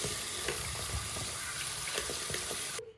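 Water rinses through a Maytag/Whirlpool washing machine drain hose being cleaned of sludge, a steady close splashing rush with brief spatters that cuts off abruptly near the end.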